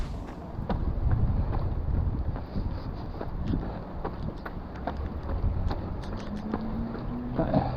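Strong wind roars and buffets the microphone outdoors during a run in the rain, a steady loud rush with faint ticking taps scattered through it.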